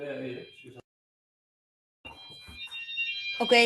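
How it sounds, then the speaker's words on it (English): A building alarm rings with piercing, steady electronic tones, brief at first and then louder at the end, while a person speaks nearby. "Sorry for the noise, we have an alarm here."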